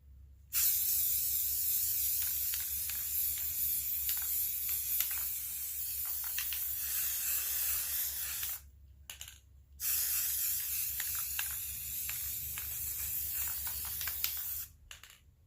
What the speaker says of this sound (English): I just spray the whole back and it's super easy